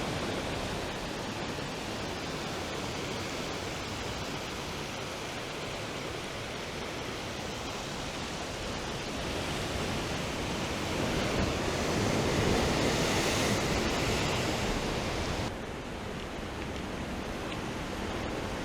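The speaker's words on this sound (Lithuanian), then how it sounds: "Bangos įspūdingos." Ocean surf roaring continuously, a broad rushing wash that swells louder near the middle, with some wind buffeting the microphone.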